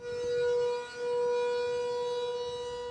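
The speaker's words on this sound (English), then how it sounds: "Blaring sirens, an orange-hued dark sky, plumes of smoke, and glowing magma oozing out of it" Civil defense sirens blare in a steady, droning wail that dips briefly and then holds, sounding during a volcanic eruption in Iceland.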